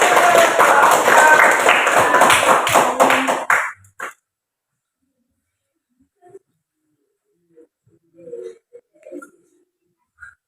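Audience applause after an invitation to cheer for a group about to perform, dense and loud clapping for about four seconds before cutting off, followed by faint scattered sounds.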